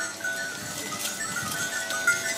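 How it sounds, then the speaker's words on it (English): Goats bleat close by on a farm, several overlapping calls across a few seconds, with no one speaking. "You've got 2 minutes of goats there."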